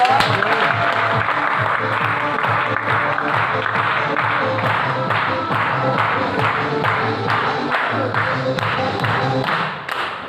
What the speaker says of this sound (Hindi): इसके मालिक छाबड़ा जी के लिए भी ताली होनी चाहिए